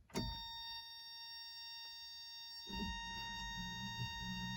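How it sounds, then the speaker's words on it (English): The power antenna on a 1988 Toyota MR2 supercharged extends with a faint, steady electric motor whine inside a quiet car, following a soft click. "So that is the antenna going up."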